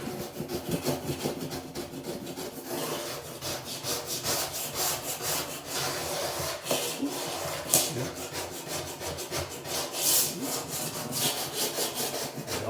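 A blade scrapes dried drywall joint compound off high spots in a rapid, rhythmic series of rough rasping strokes, close and steady for about thirteen seconds with no talking.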